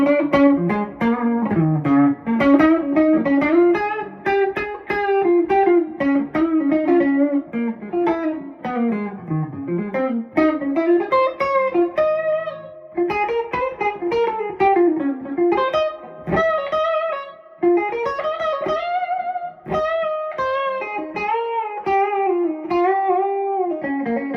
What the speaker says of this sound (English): That's the hand-wired, beautiful reverb, nice tail on it.